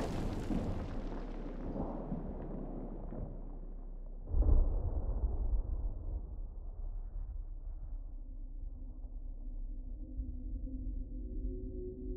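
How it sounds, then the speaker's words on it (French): A deep, rumbling explosion in a James Bond film, mixed in Dolby Atmos, booms out partway through and fades into a low, muffled hum, with no voices. "cette scène où Bond est assourdi après une explosion est particulièrement efficace"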